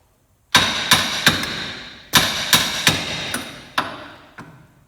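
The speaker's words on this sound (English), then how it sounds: "I'm going to take a hammer and tap this lower control arm off" Sharp metallic hammer blows on steel, tapping a lower control arm loose on a Can-Am Defender, about ten strikes in two uneven bursts, each ringing briefly, close and loud with no talking.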